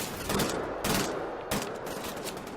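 Enemy gunfire in the video game Wolfenstein: The Old Blood, loud bursts of rapid automatic shots, three distinct volleys over a dense battle din, with no talk.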